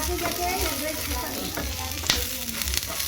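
Softened onion, cumin and tamarind fry in a pan with a continuous close sizzle, broken by light scrapes and stirring clinks and one sharp metallic tap near the end, with no talk.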